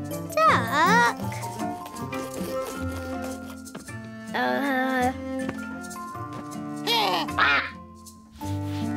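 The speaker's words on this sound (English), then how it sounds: "Duck." A cartoon duck quacks in several short, bright, wobbling bursts spaced a few seconds apart. They play over soft chiming music, with a voice speaking in between.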